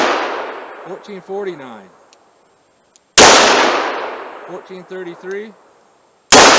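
Two sharp, very loud handgun shots from a 39-ounce Smith & Wesson firing full-power Speer Gold Dot loads, each ringing out before a man calls out numbers between them.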